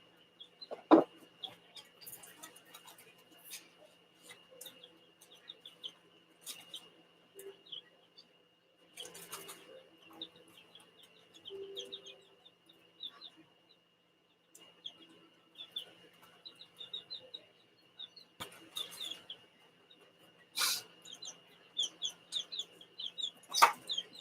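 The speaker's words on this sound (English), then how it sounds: "Can y'all hear the chicks?" Small chicks chirping indoors in short, faint bursts scattered over a quiet background, with occasional bumps and rustling nearby.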